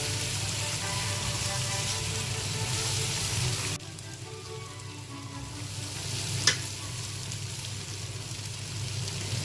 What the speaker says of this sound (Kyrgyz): Биз гречканы да 10 мүнөт кууруп